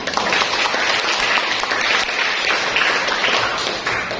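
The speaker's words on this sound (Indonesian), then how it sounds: "Kita kasih applause untuk temannya tadi." A classroom of students applauds a classmate with loud, steady clapping that fills the whole moment and tapers slightly at the end.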